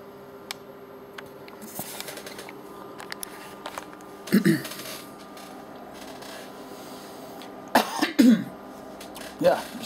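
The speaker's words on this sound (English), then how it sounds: "just clear my throat" A man clears his throat a few times at close range, short rough bursts separated by quiet room noise.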